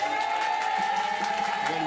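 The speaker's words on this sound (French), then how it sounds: "On peut les applaudir." An audience at an outdoor summer evening concert applauds in a steady, moderately loud stream of clapping, with a steady tone and scattered voices mixed in.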